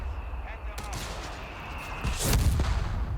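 Mortar fire in the Company of Heroes 3 strategy game, with a distant sharp report and then a louder, closer explosion and rumble over a steady background of battle noise.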